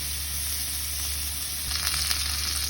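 Pork sizzles in its own rendered fat in a pan, a steady close crackling hiss with a few brief bursts of stirring toward the end.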